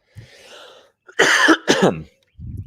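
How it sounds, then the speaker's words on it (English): A few throaty coughs and a throat clear from a tickle in the throat, close and loud, with short pauses between bursts and a softer rumble at the end. "I had to clear my throat."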